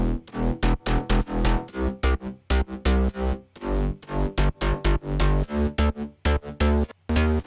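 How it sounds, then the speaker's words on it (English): An electronic bass line from a dance-track drop plays alone in loud, punchy, choppy pulses with sharp gaps between hits, a deep synthetic tone driving a syncopated rhythm. "And then we move on to the bass, sounds like this."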